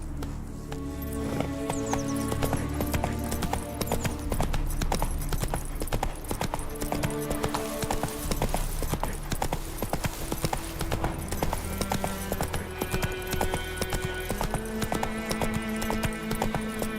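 Roach the horse in The Witcher 3 trots with a steady, close clip-clop of hooves that runs continuously over a musical backdrop.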